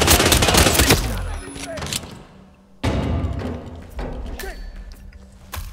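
Heavy bursts of gunfire ring out in Hitman 3's China level, one loud volley at the start and another just before three seconds, with quieter shots and movement in between.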